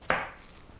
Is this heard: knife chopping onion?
yes